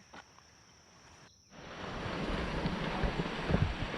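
Steady rushing water of Big Pine Creek near Death Valley, close by and continuous, growing louder after a brief dip, with some wind noise over the microphone.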